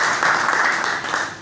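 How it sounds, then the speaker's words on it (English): An audience claps steadily for a speaker at a success talk, a dense, even patter of many hands sustained for about a second and a half. "An applause for that."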